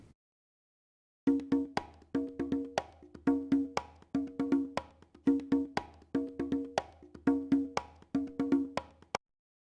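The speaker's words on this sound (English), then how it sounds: "import a conga loop from Stylus RMX" A looped pattern of hand-struck conga hits from the Stylus RMX software, crisp and close, repeating a busy syncopated rhythm after a short silence, then stopping abruptly.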